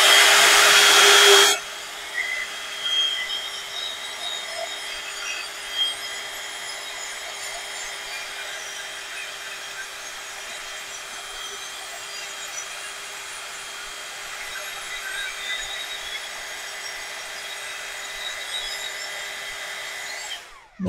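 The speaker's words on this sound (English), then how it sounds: "let's just give that a quick blast with the heat gun" A heat gun blows hot air over an industrial-themed craft piece: a loud, close rush of air for the first second and a half, then a steady, softer hiss that carries on to the end.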